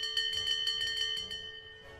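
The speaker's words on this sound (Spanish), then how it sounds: "Una última vez vamos a sonar la campana." Ship's bell struck in the Minecraft video game aboard a pirate ship, a series of bright metallic chimes ringing in quick succession with lingering tones that fade over about two seconds.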